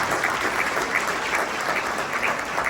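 A banquet crowd at an Assyrian convention in Anaheim claps loudly and continuously, a thick, even roar of applause with a faint rhythmic pulse running through it.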